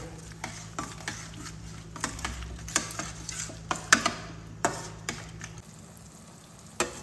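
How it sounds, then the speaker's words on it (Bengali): Cumin and ground spice masala are sautéed on a low flame, giving a quiet, steady sizzle. A spoon taps and scrapes against the pan at irregular intervals as the spices are stirred. "এগুলোকে খুব ভালোভাবে মিশিয়ে নেব যতক্ষণ পর্যন্ত না এই মশলাগুলো থেকে তেল ছাড়বে আমি ততক্ষণ এটাকে কষাতে থাকবো"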